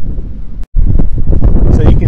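Strong wind buffets the microphone outdoors in Aachen, Germany, a heavy, constant low rumble with one brief dropout, while a voice talks underneath.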